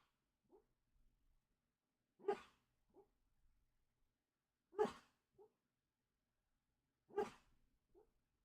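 A sleeping pup making soft muffled woofs and whimpers while dreaming, three short faint bursts spaced a couple of seconds apart, each followed by a smaller yip, heard from the background in a quiet room.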